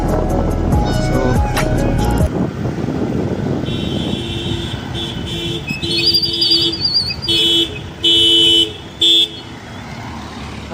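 Car horns honk in city traffic around a cyclist, with two sharp toots standing out late over a steady wash of engine and road noise, one longer than the other.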